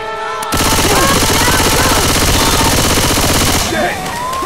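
Sustained automatic gunfire in Left 4 Dead 2, loud and close, a steady rattle of rapid shots lasting about three seconds, with voices talking faintly before and after the burst.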